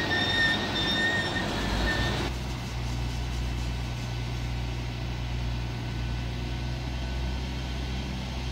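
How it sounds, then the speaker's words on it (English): An eight-coach East Midlands Railway train standing at a station platform, a steady low rumble and hum of the idling train with a brief high tonal whine early on that then stops. "the 1337 East Midlands Railway service to Corby, calling it Kettering and Corby. This train is formed of 8 coaches."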